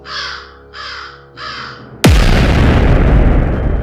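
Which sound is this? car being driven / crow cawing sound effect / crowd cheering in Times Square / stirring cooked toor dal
crow cawing sound effect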